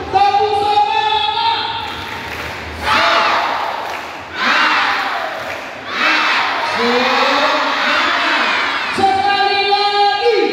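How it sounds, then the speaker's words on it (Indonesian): At a primary school farewell and arts performance, a large audience of schoolchildren claps and cheers loudly in several surging bursts, with an announcer's voice before and after. "Tepuk tangan."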